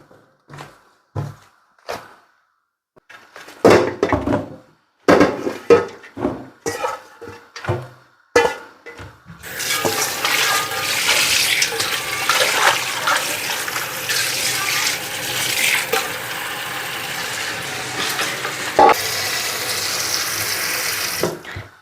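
A few clinks and knocks of dishes, then a tap opens and water runs steadily into a sink while things are rinsed under it.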